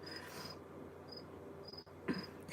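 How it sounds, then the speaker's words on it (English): Faint, high cricket chirps repeating at intervals over a quiet indoor hum. "Oh yeah, you hear the cricket?"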